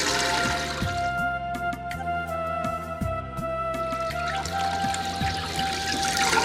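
Water is poured over flattened rice in a container to soak it as feed for ducklings. It makes a steady close trickle throughout, with chirping tones above it.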